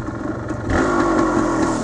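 A nearby 1975 Suzuki TS400 Enduro motorcycle engine rumbles, then its revs rise into a louder, steady roar.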